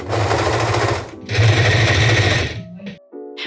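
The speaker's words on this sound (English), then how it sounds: "overlock the edges and enjoy the relaxing sound of the serger" A serger overlocks the edges of fabric for a dress, a loud, close, rapid mechanical chatter in two sustained runs separated by a short pause, followed by a few brief clicks and knocks.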